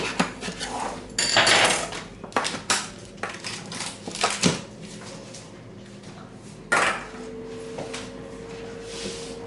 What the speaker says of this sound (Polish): teraz należy brzegi leciutko odkroić